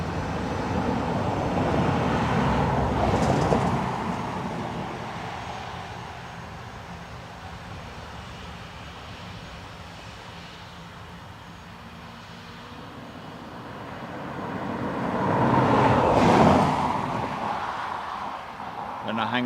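Airliner taking off from runway 10 right at Dublin Airport: a loud, broad jet roar swells early, eases to a steady distant rumble, then builds again near the end, with radio chatter faintly present.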